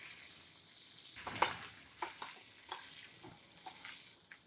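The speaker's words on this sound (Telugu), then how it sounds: "పచ్చిపోయేదాకా కొబ్బరి వేయించేసేయండి." Grated coconut fries in hot oil with red chillies, a quiet steady sizzle broken by several scraping stirs of a spoon in the pan, close up, with no talking.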